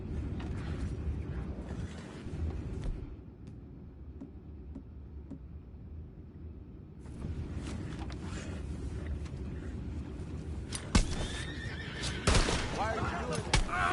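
Horses whinnying in Red Dead Redemption 2, a couple of shrill neighs toward the end over low creaking and mechanical game ambience, fairly faint in the mix.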